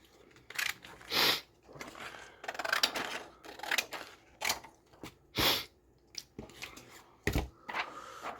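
Scissors cutting a piece of paper during a folio craft project: a series of short, quiet snips and rustles at irregular intervals, close up, with no talk.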